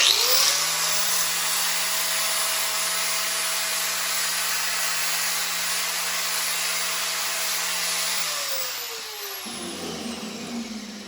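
A power tool rounds off the end of a piece of 1/4 inch flat steel in a workshop, a loud steady high whine lasting about eight seconds before the motor spins down and fades.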